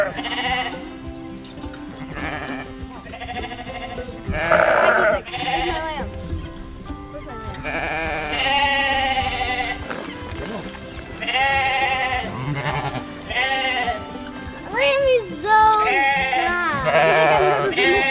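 Several sheep bleat repeatedly, loud and close, overlapping one another while people talk in between.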